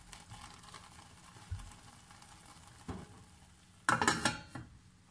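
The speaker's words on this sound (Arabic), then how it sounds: "هلا هون شايفين بلش يغلي، هلا بس هيك رح احركه شوي واغطيه" Homemade nettle vinegar stirred in a pot as it begins to boil, with a soft bubbling hiss under a few scraping stirs of a utensil against the pot, ending in a louder burst of clattering metal near the end.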